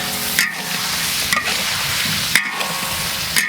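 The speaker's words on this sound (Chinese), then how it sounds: "1把的干花椒，来给它炒一下" Dried Sichuan peppercorns and soybean paste sizzle steadily in a hot wok, with the scrape of a spatula stirring them at roughly one-second intervals.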